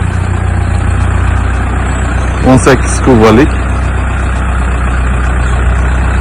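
A 43-year-old Fendt Farmer tractor idles on a German dairy farm, its engine humming low and steady throughout, while someone talks briefly over it.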